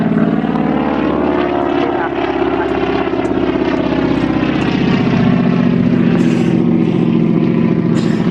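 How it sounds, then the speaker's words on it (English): A Harvard propeller aircraft flying an aerobatic display over Point Cook airfield, its engine and propeller giving a loud, steady, rasping drone that swells and shifts in pitch as it manoeuvres. "You'll notice that the aircraft is very manoeuvrable."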